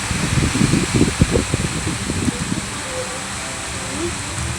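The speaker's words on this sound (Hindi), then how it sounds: "बहुत भयंकर बारिश हो रही है" Heavy rain and strong wind during a storm in Prayagraj, India, make a steady, dense roar with gusting rustle throughout, and a faint muffled voice is briefly heard early on.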